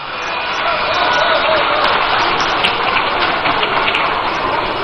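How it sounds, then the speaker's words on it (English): A crowd applauds a former Speaker of Parliament at a political party manifesto launch rally, with a dense, sustained clapping roar that swells and holds loudly, voices mixed in. "A round of applause for him."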